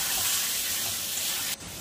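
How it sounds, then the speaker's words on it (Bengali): Boiled chickpeas and spices hiss and sizzle steadily in a hot pan while being stirred, a bright continuous frying sound that cuts off abruptly near the end. "নেড়ে চেড়ে মশলার সঙ্গে মিলিয়ে নিচ্ছি।"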